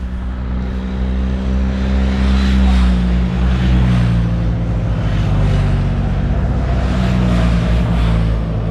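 Motorcycles passing near an old stone monument in the Ardennes, a loud continuous engine drone and rumble that swells and fades as the machines go by.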